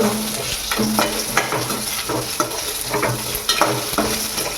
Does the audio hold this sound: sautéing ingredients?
yes